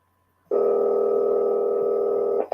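Steady telephone line tone on a call to the ATF, starting abruptly after a quiet half second and holding loud and unbroken for about two seconds before cutting off.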